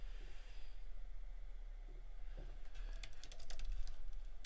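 Quick, uneven clicking of keys on a computer keyboard, faint and close, rising into a denser burst of taps toward the end, alone over a low steady hum with no talking.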